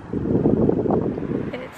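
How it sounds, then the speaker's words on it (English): Wind gusts across the microphone outdoors at sunset near a UK university, a close, low buffeting roar that swells and fades over a couple of seconds. "It's so windy."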